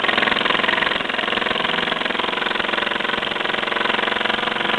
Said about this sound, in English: Certainly there's plenty of pressure in there to actually turn the engine over.